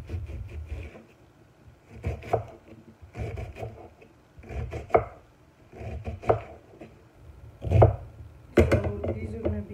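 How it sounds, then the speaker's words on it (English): Vegetables chopped into chunks with a knife on a cutting board, close, firm rhythmic thuds in quick bursts separated by short pauses. "You just chop them up into chunks,"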